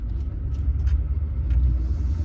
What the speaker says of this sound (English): give you a feel best I can on the video on how the truck rides